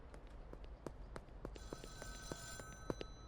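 Payphone ringing in the video game Schedule 1, a faint high electronic ring entering partway through over steady running footsteps, no talking.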